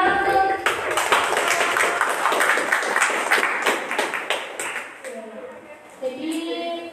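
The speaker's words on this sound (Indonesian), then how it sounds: "Kita bisa tepuk tangan dulu." An audience at a school student-council candidate debate gives a burst of clapping that swells and then thins out over about five seconds, before a voice starts speaking near the end.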